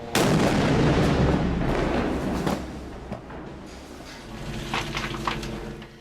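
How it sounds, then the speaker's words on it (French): A loud explosion from an Israeli airstrike on a weapons cache in Gaza booms at once, followed by a rumbling roar and crackling secondary blasts that slowly fade. "L'explosion subséquente porte à croire qu'il s'agit là d'une cache d'armes"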